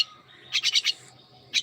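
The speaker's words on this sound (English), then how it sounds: "My birds now making sound." Pet birds call out at feeding time in a series of rapid, bright chirping bursts, four quick notes in a row then a pause before another burst, loud and close against a quiet background.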